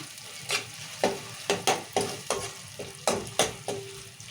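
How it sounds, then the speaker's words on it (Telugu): Ginger frying in hot oil for a Telugu-style chicken curry with thick gravy, stirred with a utensil in the pan; about ten sharp scraping stir strokes repeat over a steady close sizzle, with no talking. "ఇప్పుడు అల్లం వేసుకుందాం ఇలా రెండు నిమిషాలు పచ్చివాసన"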